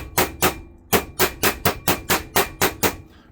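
Meat mallet pounding chicken breasts flat to about a quarter inch, a dozen loud, close, sharp thuds in a steady rhythm with a brief pause after the first pair.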